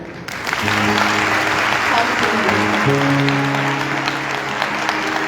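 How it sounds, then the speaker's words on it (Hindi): A worship congregation in Sahiwal claps together during live praise and worship, a steady loud wash of hands over sustained music tones and a speaking voice. "आए उसकी हुजूरी के लिए, उसकी मौजूदगी के लिए तालियां बजाएं"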